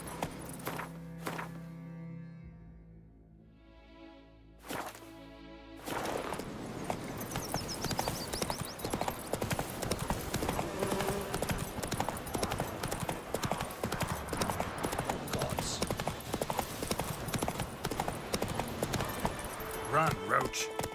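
Roach the horse in The Witcher 3 gallops with rapid, continuous hoofbeats that start after a few seconds of quieter sounds and run loud and dense to the end, with a voice speaking over them.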